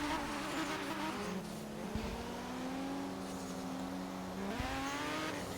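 Drift cars, a Super Cuda and a Mazda RX-7, rev and buzz at the start of a bracket battle run at Byron Bay, a steady engine drone with pitch jumps as the throttle blips, heard from a distance.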